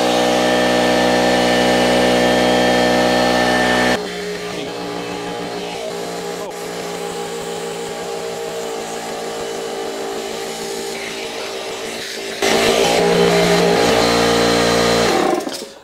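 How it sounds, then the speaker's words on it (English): A slow air compressor motor drones steadily and loudly, cutting out abruptly partway through, leaving a quieter room hum before a louder mechanical roar returns near the end. "I'm just gonna turn the compressor off because it's such a slow compressor"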